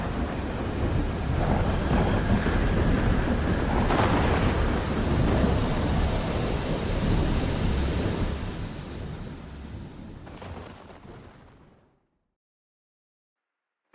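Used as a thunderstorm sound effect, a heavy, rumbling wash of thunder and rain rolls on loudly for several seconds, then fades out into silence, with no talking.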